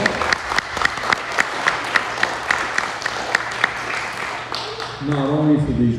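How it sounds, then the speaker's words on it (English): An audience gives a round of applause at an entertainment segment honoring winners, dense clapping with a few louder individual claps standing out, fading into speech near the end. "Let's have a nice round of applause."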